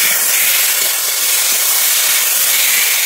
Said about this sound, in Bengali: আমি চিনিটা দিয়ে আর একটু নেড়ে নিচ্ছি।